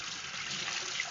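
A yellow spawning mop is rinsed in water beside a fish tank, giving a brief, steady splashing wash of running water heard up close.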